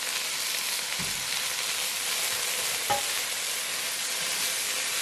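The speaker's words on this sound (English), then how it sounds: "And let that do a little saute." Onions, garlic and celery sauté in a pan with a steady close sizzle, broken by a couple of soft stirring knocks, and no talking.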